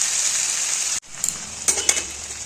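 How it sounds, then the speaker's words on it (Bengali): Cauliflower stalks and vegetables sizzle and spatter in hot oil with tempering spices, a bright continuous frying hiss up close, briefly cut off, then returning with a few scraping stirs. "তেল ছিটে আসছে ফোড়নের মধ্যে, দেখবে নাড়াচাড়া করবো"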